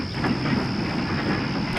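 Train engine rolling into a rail yard hauling a load of boiler tubes, a steady loud rumble of wheels and running gear with a faint high whine over it, close by and unbroken.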